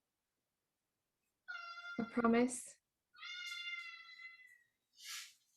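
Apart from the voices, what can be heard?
cat meowing and screaming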